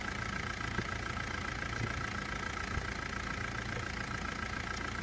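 A car engine idles steadily in a low, even rumble at moderate distance, continuous and unbroken with no voices, during a check for a faulty battery or alternator.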